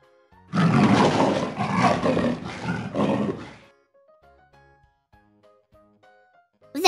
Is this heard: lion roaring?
yes